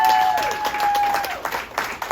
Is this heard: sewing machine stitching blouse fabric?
no